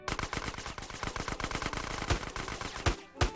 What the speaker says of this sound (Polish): Kto tam do mnie strzela jeszcze?